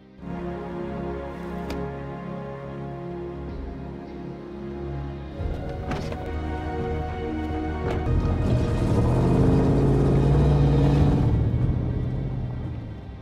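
An action film's rebel-owned car drives along, its engine a steady low rumble that swells as it accelerates, with clanks and rattles over the engine note.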